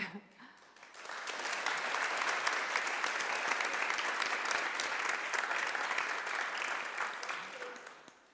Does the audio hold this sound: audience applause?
yes